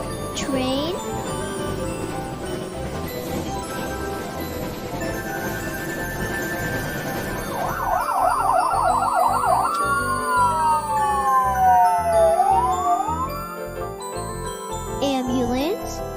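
Ambulance siren wailing with rising and falling sweeps and fast yelps, loud and continuous over steady traffic rumble, with a brief jingle at the start.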